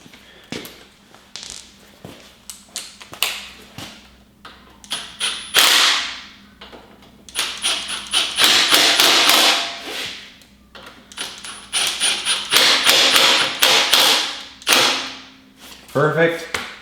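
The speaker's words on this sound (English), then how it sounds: "I'm just gonna drop them in quickly with my impact." An impact wrench drives the headlight bolts on a Harley-Davidson Fat Bob in several loud, close bursts of rapid hammering rattle, separated by short pauses and lighter clicks and taps.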